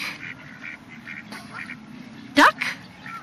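A flock of ducks quacks repeatedly at moderate volume. One sharp, louder burst and a few faint sounds of people nearby break into the steady calls.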